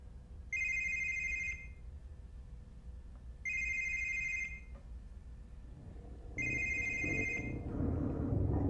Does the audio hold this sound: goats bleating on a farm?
no